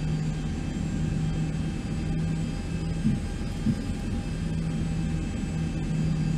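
Boeing 737-800 jet engines idle in the X-Plane 11 flight simulator, making a steady low rumbling drone with a faint high whine. The noise is constant and fairly loud, broken only by a couple of brief soft bumps.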